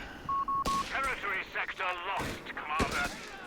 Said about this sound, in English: Hit it with a grenade.